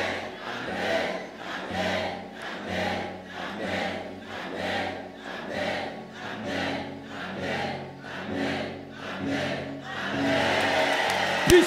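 Church congregation at a French-speaking service shouting acclamation in rhythmic, swelling bursts roughly once a second, loud and close, building into a sustained roar near the end.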